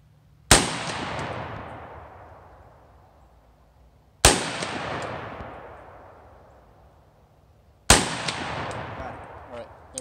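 Three loud rifle shots fired with a Holosun red dot sight while zeroing at 100 yards in the field, spaced about three and a half seconds apart, each a sharp crack followed by a long echoing decay.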